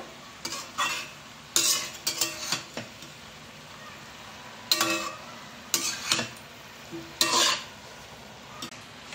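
A fish head fries in a pan with a faint steady sizzle, broken by short bursts of a spatula scraping and stirring against the metal.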